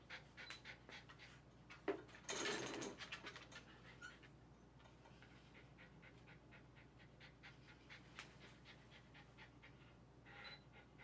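A senior miniature schnauzer with health problems pants rapidly and steadily during a grooming session, close by, with a brief scratchy rustle early on and no talking.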